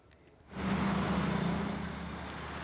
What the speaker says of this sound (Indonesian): Iring-iringan kendaraan yang didominasi kendaraan pribadi dari arah Jakarta menuju Bandung terus melintas